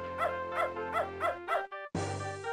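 A dog in the video game Beneath a Steel Sky gives five rhythmic barks, then a short whimper and a sustained tone, clear and close with no talking.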